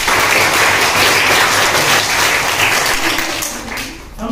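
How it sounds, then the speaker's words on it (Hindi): Children in a school classroom applaud a classmate during a traffic-safety lesson given by a police officer. The clapping is dense, loud and continuous, then thins slightly toward the end. "इनके लिए ताली बजाओ।"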